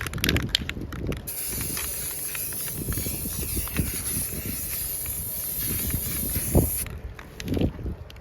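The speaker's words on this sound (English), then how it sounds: "Let's just give them all a good spray." A spray can lays a finish coat over a batch of holiday ornaments with a continuous close hiss of aerosol, broken by short gaps and a few handling knocks, before the spray cuts off near the end.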